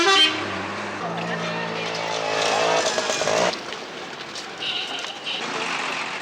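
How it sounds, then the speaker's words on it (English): Car horns toot and honk in crowded hill station traffic in Himachal Pradesh, several blasts overlapping with engine and motorcycle noise, loud and close, with jarring music mixed in. "Jarring music and blaring car horns greet you if you venture to any of these places."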